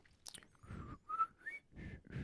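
A person whistles a short tune in several distinct notes, quiet and close, with a few breathy sounds at the start.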